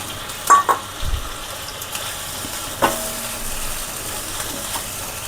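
Potatoes go into a pan of katla fish curry with bori, followed by a steady sizzle and stirring, with a few sharp spoon or pan clicks near the start.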